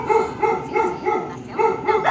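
A dog barks in a steady series of about six evenly spaced, fairly loud barks nearby, with no talking over it.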